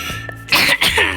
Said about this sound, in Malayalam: നല്ല ചുമ എല്ലാം ഉണ്ട്.